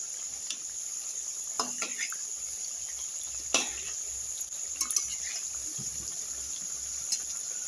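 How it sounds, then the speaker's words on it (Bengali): Cabbage pakoras fry in hot oil while being turned one by one: a soft, steady sizzle carries throughout, broken by a few brief scrapes and clinks of the utensil against the pan. "এবার আমি পকোড়াগুলো একটা একটা করে উল্টে দেব।"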